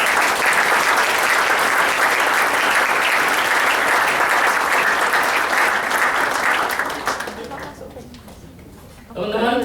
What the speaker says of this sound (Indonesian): Oh, Dokter Danu, kita tepuk tangan dulu buat Dokter Danu.